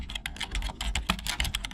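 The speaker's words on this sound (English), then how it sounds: "As you type on the keyboard" Fingers type quickly on a computer keyboard, a dense run of crisp, irregular key clicks close up with no speech.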